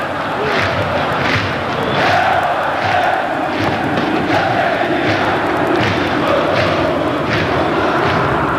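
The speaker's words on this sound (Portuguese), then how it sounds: "Canta a torcida rubro-negra." Flamengo fans in a packed stadium at the 2006 Copa do Brasil final against Vasco, a dense roaring mass of voices singing and chanting continuously, loud and sustained with rhythmic surges and thumps.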